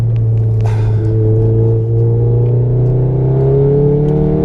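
A Racingline-tuned 520 hp Mk7 Volkswagen Golf R accelerates hard at full throttle in race mode, its engine note climbing steadily in pitch as it pulls through the revs, loud and close with a constant deep rumble.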